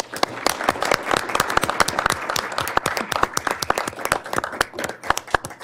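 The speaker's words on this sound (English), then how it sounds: "let's all give Johnny a round of applause." Audience applause at a county commissioners business meeting in Douglas County, a steady patter of individual claps from a modest crowd with distinct sharp hand claps standing out near the microphone, lasting several seconds.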